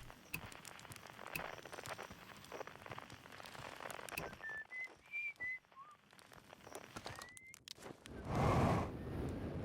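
A video game character whistles a short melody of several clear bright notes over steady rain-like ambience with soft footsteps, ending with a louder rushing burst.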